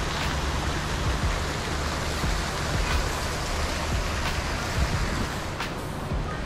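A waterfall near a resort gives a steady, dense rushing roar of falling water, loud and constant throughout with no talk.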